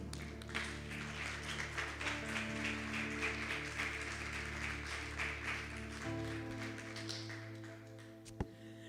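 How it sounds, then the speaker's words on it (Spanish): Church audience at a women's conference claps in sustained applause, a dense steady patter of many hands under a low musical drone that shifts partway through, ending with a single sharp tap. "¿Por qué no le damos un fuerte aplauso a nuestro Señor?"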